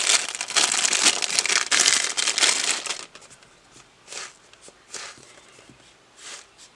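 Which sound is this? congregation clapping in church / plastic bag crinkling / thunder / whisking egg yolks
plastic bag crinkling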